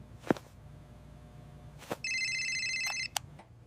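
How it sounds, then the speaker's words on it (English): A phone rings with a bright electronic ringtone for about a second, set among a few sharp knocks and clicks nearby. "The ringtone is loud."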